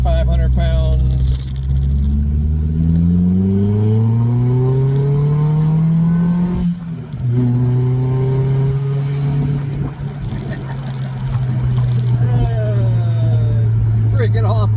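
A supercharged BMW Z3 roadster with a 1.9L engine and a straight-pipe exhaust with no cat, revving up through the gears with a rising, raspy, loud drone and a brief drop between shifts while someone talks over it.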